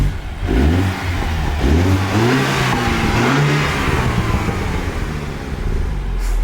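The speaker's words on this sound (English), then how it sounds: "Hit a little rev for us" A BMW engine is revved from idle, rising and falling in a strong, close growl before settling back to a steady idle, loud and with no talk.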